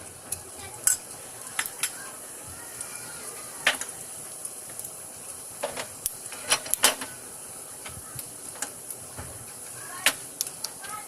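Cumin seeds dropped into hot oil for a mutton dish, a soft continuous sizzle broken by sharp clicks and scrapes of a utensil against the pan, fairly quiet and without talk.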